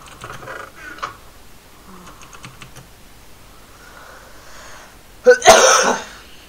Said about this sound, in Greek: για κάποιο λόγο βήχω στα βίντεο μου